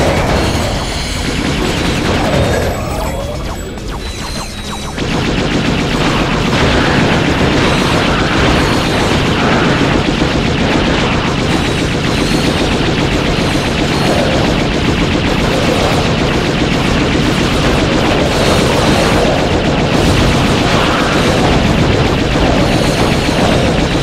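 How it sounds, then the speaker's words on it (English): Fusion rifle fire against enemies in Ratchet: Deadlocked, a dense, loud, continuous barrage of shots and blasts running almost the whole length, briefly thinning near the start before resuming at full intensity. "Try using the fusion rifle to destroy those enemies"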